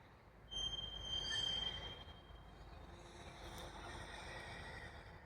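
Tail end of a CN freight train passing on the mainline, a steady rolling rumble with a high wheel squeal near the start, fading slightly as the last car with its end-of-train device goes by.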